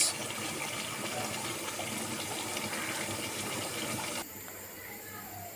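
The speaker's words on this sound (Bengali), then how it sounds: "আমি দিয়ে দিলাম পানি" Water pours and splashes continuously into a cooking pot of mutton korma for about four seconds, then cuts off abruptly, leaving a quieter background hum.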